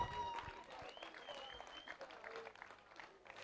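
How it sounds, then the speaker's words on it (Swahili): An audience at a public commemoration for victims of enforced disappearances claps in a brief burst. The applause is faint and mixed with crowd noise and a voice speaking over it. "Tuwapigie makofi vizuri."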